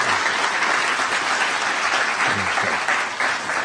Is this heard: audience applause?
yes